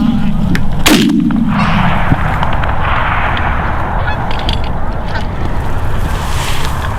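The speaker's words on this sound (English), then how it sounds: "very good shooting" Goose hunting for Canada geese: a single loud, close shotgun blast cuts through a constant chorus of honking geese that continues after the shot.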